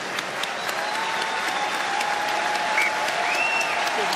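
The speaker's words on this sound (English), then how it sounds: "Applause" Rugby stadium crowd applauding during a Newcastle Falcons match against George Ford's side, a dense, continuous wash of clapping from a large distant crowd, steady and even throughout, with faint whistles and calls drifting above it.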